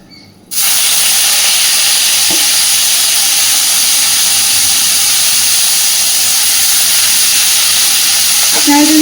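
Chopped water lily stems, pressed by hand and coated with salt and turmeric, hitting hot oil in a pan, a steady loud sizzle and hiss that starts abruptly and runs unbroken, with faint talk underneath.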